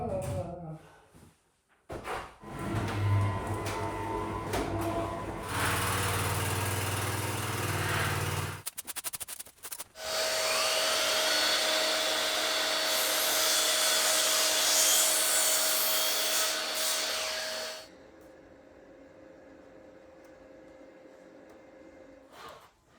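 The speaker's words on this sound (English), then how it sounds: "I may as well just measure up these boards and get started on the planing" Power planer shaving dried-out wooden siding boards, a loud sustained high whine running steadily for about eight seconds after shorter bursts of tool noise and handling.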